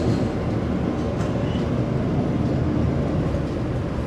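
The Argo Bromo Anggrek train creeping slowly across a bridge gives a steady, loud, deep rumble of wheels and carriages that never lets up, heard close from on board with no talking.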